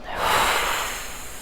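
A single deep belly-breathing inhale is drawn through the nose, close and fairly loud, swelling quickly and then tapering off as a soft airy breath.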